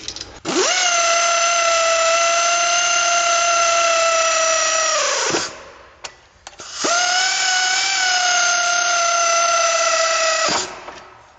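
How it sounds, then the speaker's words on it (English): An air ratchet runs down lug nuts in two long bursts, each a steady high-pitched whine that winds down as the nut seats. It is loud and close with a short pause between bursts and no talking. "Now to save time, I'm going to run these down with my air ratchet, but I'm not going to tighten them."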